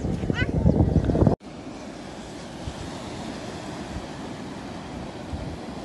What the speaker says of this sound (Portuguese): O mar.